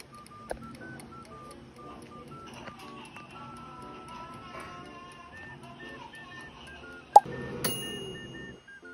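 An air fryer being set to 13 minutes gives a series of short electronic beeps from button presses at an uneven pace, near and fairly soft, ending in a louder click, with faint background sound.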